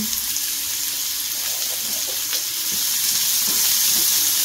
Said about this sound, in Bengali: এবারে পেঁয়াজটা একটু লাল লাল করে ভাজা হোক